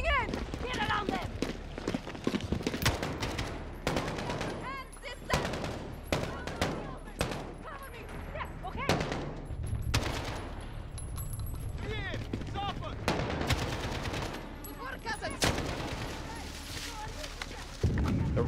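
Call of Duty video game combat with dense, rapid automatic gunfire and scattered single shots in close, loud bursts throughout, over a constant low battlefield rumble, with a voice talking over the action.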